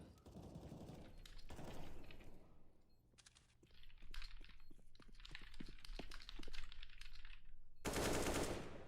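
Gunfire from a Counter-Strike match in an ESEA MDL Season 35 Europe esports game: loud rapid automatic bursts and single shots crackle in quick succession, with heavy blasts at the start and end and no talk over them.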